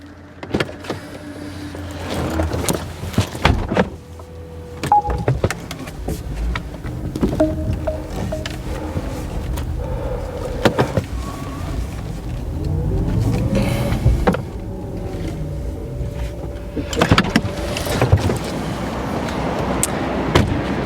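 A Porsche Taycan electric car moves under remote park assist, with a soft electric motor whine, intermittent mechanical clicks and hums, and brief swells of rolling noise outdoors, without talk.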